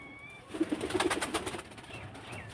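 Domestic pigeons and their chicks at home coo in a short run of soft, low, burbling pulses up close, fading toward the end, with no speech.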